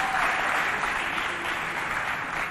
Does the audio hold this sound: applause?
yes